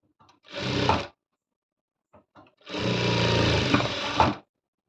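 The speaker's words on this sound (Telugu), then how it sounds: "అడ్జస్ట్ చేసుకొని ఇప్పుడు స్టిచ్ చేసుకోవాలి" A sewing machine stitches a children's designer blouse with a back-open design, running in two close, steady bursts: a short one first, then a longer run after a brief pause, with no talking.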